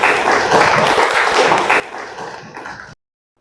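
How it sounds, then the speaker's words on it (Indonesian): A classroom of pupils breaks into close, loud applause for a few seconds, then the clapping drops away and cuts off. "Tepuk tangan"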